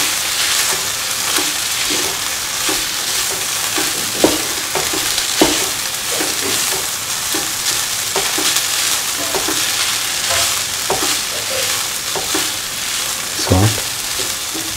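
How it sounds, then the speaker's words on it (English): Cooked rice being stirred through a green mango mixture in a hot pan, a steady sizzle and frying hiss running throughout with scattered scrapes and taps of the spoon against the pan. "Mix the cooked rice with the rest of the mixture."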